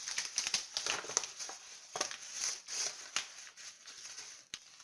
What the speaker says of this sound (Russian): Складываем его вдоль наполовину.